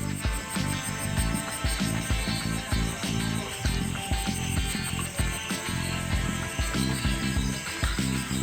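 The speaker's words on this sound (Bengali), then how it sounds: "চারিদিকে ঝিঝি পোকার ডাক" Crickets chirp at night around an eco resort in Joypur forest, a steady shrill insect chorus layered over a dense, pulsing night-time din that never lets up.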